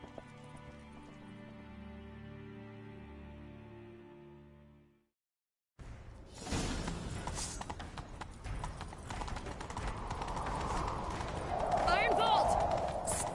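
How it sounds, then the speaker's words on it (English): Horse hooves gallop in a steady clip-clop rhythm in The Witcher 3, loud and continuous under game music and ambience after a brief silence, with a voice speaking earlier. "Grab a horse, we'll chase him down."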